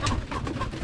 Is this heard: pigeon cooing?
yes